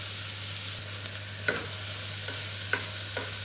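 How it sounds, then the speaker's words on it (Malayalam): Tomatoes and spices stirred in a frying pan, a steady sizzle under the spoon with a few sharp scrapes and taps against the pan, close and fairly loud, no talk. "ഇനി നമുക്ക് തക്കാളിക്ക് ഇട്ട് കൊടുക്കാം. നന്നായിട്ടൊന്ന് മിക്സ് ചെയ്യുക."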